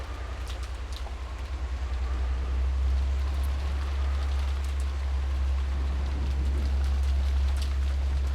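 Rain falls in a rose garden in the visual novel Umineko, a steady soft hiss over a strong constant low hum that swells slightly after a couple of seconds, with no speech.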